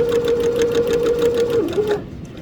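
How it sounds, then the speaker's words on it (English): A sewing machine stitches fabric in a fast, even mechanical whir close by, running steadily for about two seconds and then stopping. "you're going to continue to stitch until you get to the next corner"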